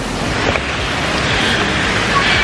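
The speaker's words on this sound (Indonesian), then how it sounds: "ada jembatan sini ada air terjun lagi keren banget ada Bella" A waterfall near a bridge on a hiking trail outside Bandung roars loudly and continuously, its close, dense rush buffeted by wind noise.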